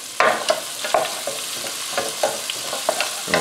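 Soup ingredients with a cinnamon stick and brown sugar being stirred in a hot pot before butternut squash goes in, a bright sizzle punctuated by regular scraping stirs roughly every half second, close and loud, without speech.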